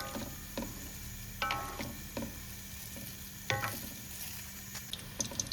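A spatula scrapes and clacks against a wok in irregular strokes over a faint, steady sizzle of onde-onde frying. No one speaks.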